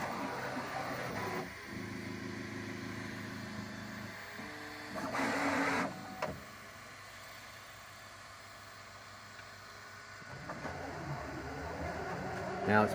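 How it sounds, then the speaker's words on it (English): A 3D printer works through a print, its stepper motors humming and whining in shifting tones with brief louder passages of motor movement, while someone talks quietly at times. "Now it's printing the actual"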